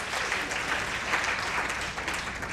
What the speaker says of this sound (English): A round of applause for Janice Cole